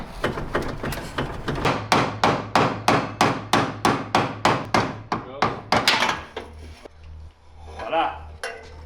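Rapid metal-on-metal hammer blows knock loose the steering rack on a BMW E46 drift car being prepped. About two dozen sharp, rhythmic strikes land close and loud, then stop and leave faint shop noise.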